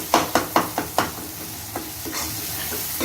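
Ivy gourd masala sautéing in oil in a pan gives a steady close sizzle, broken by several quick spatula scrapes and stirs near the start, then a softer continuous fry.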